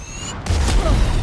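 A grenade blast in Valorant hits with a sudden, loud low boom after a brief quiet moment of game tones, followed by a rumbling, broadband roar that lingers to the end.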